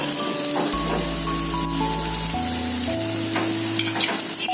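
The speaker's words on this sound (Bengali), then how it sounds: "জাস্ট একটুখানি কালারটা চেঞ্জ হবে পেঁয়াজটা, সেইটুকু ভাজবো" Onions frying in a pan for egg curry give a dense, crackling sizzle close by, with a few stirring knocks and a steady low background hum, no voices.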